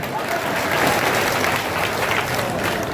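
Crowd at a political rally in Purnia, Bihar claps loudly and steadily, dense applause filling the space for a few seconds.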